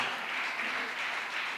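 A church congregation clapping together during a Tamil sermon, a steady, dense wash of hand claps that holds at an even level throughout, with no voices standing out.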